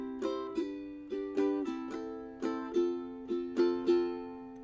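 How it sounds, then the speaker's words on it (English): Ukulele strummed in a repeating pattern with two chords per pattern, bright plucked strums ringing out in an even rhythm, close and clear with no talking. "So now I'm going to be playing 2 chords per strumming pattern,"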